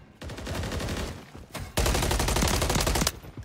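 Rapid automatic gunfire in Call of Duty Modern Warfare III ranked multiplayer, two loud sustained bursts of closely spaced shots separated by a brief pause.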